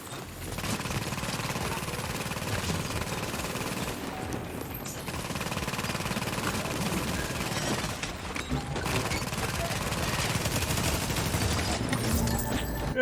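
A deployed automatic turret in a survival-mode video game shoots almost without stopping, a rapid rattle broken by a few short gaps, with a faint voice now and then.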